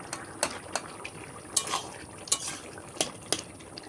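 Boiled potatoes being mashed in a pot, heard as irregular metal clinks and scrapes of a utensil against the pot with a faint sizzle underneath, close and moderately quiet, no speech.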